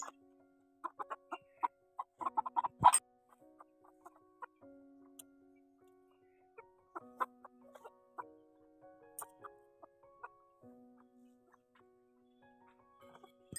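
A rooster in a cage lets out scattered, soft clucks and short calls, some quick bursts early and then sparse, faint sounds against a quiet background.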